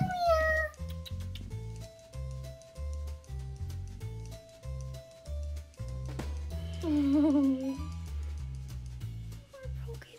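A cat meows repeatedly from downstairs in a house, several drawn-out cries standing out over steady thumping music that dominates the foreground.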